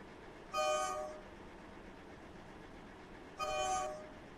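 A train horn in a Roblox British Rail game sounds twice, each blast about half a second long and a few seconds apart, over a steady low rumble of the train running.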